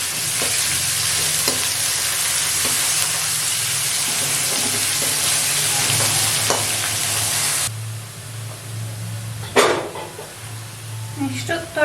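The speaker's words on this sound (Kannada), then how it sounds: "ಆನಿಯನ್ಸು ಸ್ವಲ್ಪ ಗೋಲ್ಡನ್ ಕಲರ್ ಬರೋವರೆಗೂ ಫ್ರೈ ಮಾಡ್ಕೊಳ್ಳೋಣ." Onions fry in a pan with a steady, loud broadband sizzle and repeated stirring scrapes; the sizzle drops partway through and is followed by a few sharp utensil knocks, with no talking.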